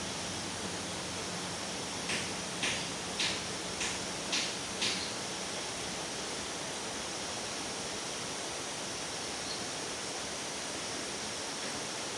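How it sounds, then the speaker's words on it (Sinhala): Dehena Ella waterfall at Wewelwatta, Ratnapura, gives a constant broadband roar heard from some distance, with a few soft knocks early on and no voices. "පාරෙන් නම් පොඩ්ඩක් ඈත හින්දා ඇල්ල ඈතින් නම් බලන්න පුළුවන්"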